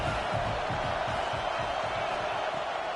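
A college football stadium crowd at Clemson versus Florida roars as one steady, dense wash of cheering and chatter, loud and unbroken throughout.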